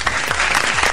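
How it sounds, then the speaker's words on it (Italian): A studio audience breaks into loud, dense applause, a steady wash of many hands clapping filling the whole second with no voices over it. "mi fai gli applausi? Vai."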